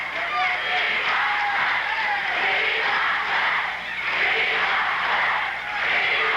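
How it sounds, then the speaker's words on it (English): A vocal arena crowd at a 1980 Portland professional wrestling match between Buddy Rose and Butch Miller roars steadily and loudly, a dense wash of shouting and cheering that swells and dips, with a commentator's voice running over it. "The crowd very vocal in their backing"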